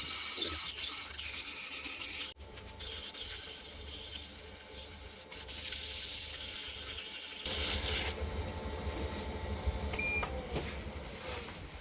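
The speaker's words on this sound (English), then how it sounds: "that's sanded up nicely now to 240 grit" Abrasive paper at 240 grit rubs the inside of a wooden lidded box spinning on a lathe, a steady close hiss and rasp over a low motor hum, briefly stopping near two seconds.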